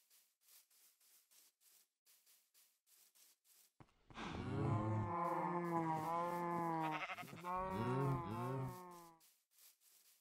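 Several cows moo loudly in a Minecraft cow crush farm, a run of long, wavering low calls overlapping one another for about five seconds after a stretch of quiet, soft background ticking.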